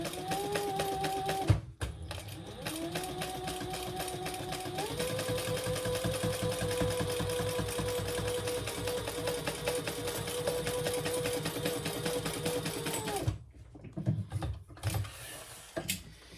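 A sewing machine runs steadily, stitching the seam allowance on a crossbody bag. The whirring motor is near and continuous, shifting speed a few times before it stops, followed by a few soft handling clicks.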